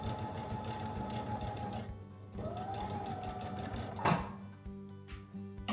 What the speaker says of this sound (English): Y'all, I'm sewing.